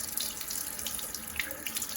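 Tap water runs steadily into a sink while filling a blown-out eggshell, a continuous close hiss and splash with small gurgling bursts, no voices.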